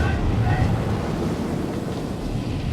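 Strong wind gusts roar over crashing sea waves, forming a dense, continuous rumble of surf and wind buffeting close by.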